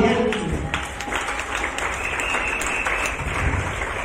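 A church congregation breaks into steady, dense applause and cheering that fills the whole stretch at close range, hands clapping continuously with a few voices rising through the crowd noise.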